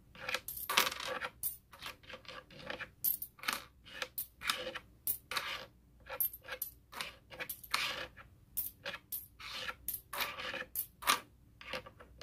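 Loose coins, including foreign and Canadian pieces, clink and jingle in quick irregular bursts as they are handled and sorted, close and fairly quiet with no talking.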